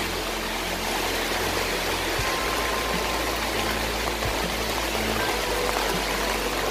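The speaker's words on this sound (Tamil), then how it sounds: "இப்போ ஃபுல்லாக தண்ணி ரொம்ப போகுது." Floodwater rushes at full flow through a subway underpass, a dense, constant roar of pouring water heard up close and alone, with a few faint thumps partway through.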